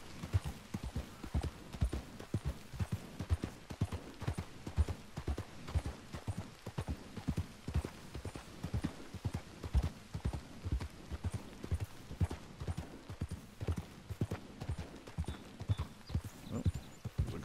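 Horse hooves clip-clop steadily and close in Red Dead Redemption 2, a nervous, antsy mare walking at an even rhythm, with an occasional whinny mixed in.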